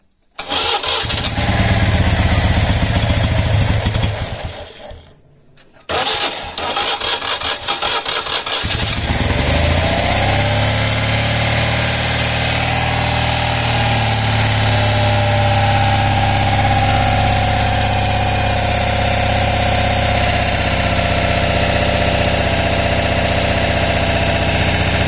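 A vintage Citroën 2CV Type A air-cooled flat-twin is cranked and fires up, then settles into a loud, steady, buzzing idle close by, with a short gap of quiet after the first burst.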